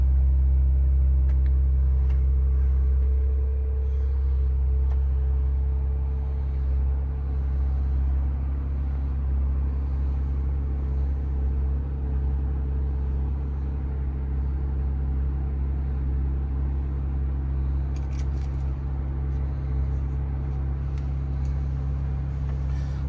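A 2022 Ford Bronco Badlands engine idles with a steady, deep, low rumble, close and even throughout, after a brief shift in tone near the start.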